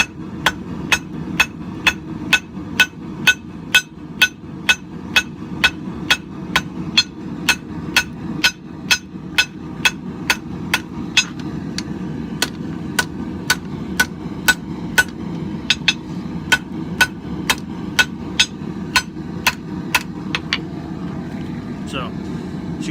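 An old steel file hammered on an anvil's radius edge while being tapered for an herb chopper, sounding as a steady run of sharp, ringing metallic strikes close by, about one or two per second, over a low background rumble.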